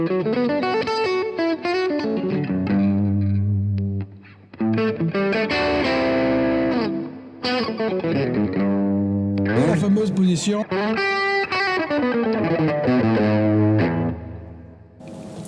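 A Fender Stratocaster Modern Player HSH electric guitar with crunch distortion plays gritty chords and sustained notes with a crunchy edge, with a brief spoken line partway through.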